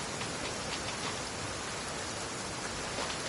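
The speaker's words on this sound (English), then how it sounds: "Don't stay out in the rain for too long." Steady, dense rainfall in the game Genshin Impact, an even hiss of drops on surfaces that holds a constant level throughout with no voices.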